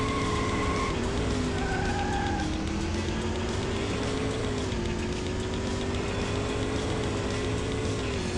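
Car tires skid and squeal in the racing game Need for Speed II SE, a long drawn-out screech over the steady roar of the engine, with higher chirps of tire squeal early on.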